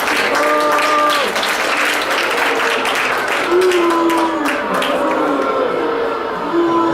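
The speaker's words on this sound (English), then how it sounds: "Let's give a round of applause for Madame Castafioria." An audience at a Christian school Christmas event applauds a caroling winner, steady clapping throughout while a sustained tone plays along.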